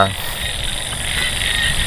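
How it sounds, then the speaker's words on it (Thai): Frogs croaking across rice fields at night after rain, a dense, continuous chorus of overlapping calls mixed with insect chirping, steady and fairly loud from many directions. "เสียงกบเสียงเขียดร้องเต็มทุ่งนาเลยเพื่อน"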